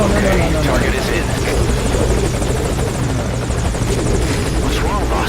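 A helicopter hovers at a landing zone in a Metal Gear Solid game, its loud, steady rotor thrum and engine buzz filling the whole stretch while voices talk over it.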